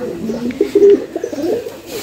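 A young running dove coos in a pigeon loft, a close, throaty, warbling coo rising into a louder burst midway, with a little background murmur.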